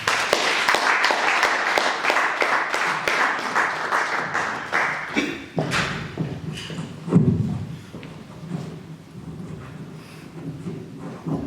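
A church congregation claps and cheers together at a consecration service, steady dense applause for about five seconds before it thins into scattered claps, murmurs and voices.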